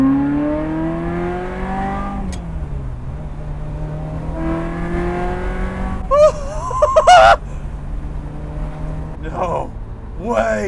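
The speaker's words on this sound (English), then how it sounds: "give it a mid throttle, just halfway" A Ferrari F355 with a gated shifter, recently fixed by a hose replacement, pulls at half throttle: the engine note climbs, drops at a shift, climbs again, then gives way to sharp warbling bursts amid excited voices.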